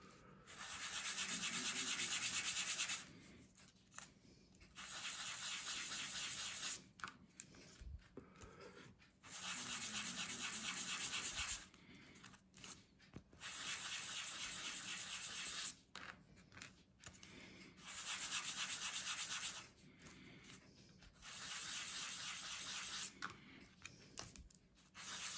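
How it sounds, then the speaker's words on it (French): Sanding a wooden clock part by hand, loud rhythmic rubbing strokes in bursts of a few seconds separated by brief pauses, close up with no talking. "après c'est ponçage"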